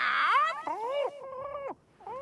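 In a French Tom Sawyer cartoon, a cat-like meow serves as an emergency signal: three or four drawn-out, rising and falling meows in quick succession, close and clear, most likely a character's voice imitating a cat.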